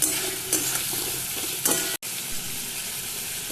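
Pointed gourd sizzles as it is stir-fried in spice paste for a soybean and pointed gourd malai, a constant loud hiss broken by a few scraping stirs and a brief dropout partway through.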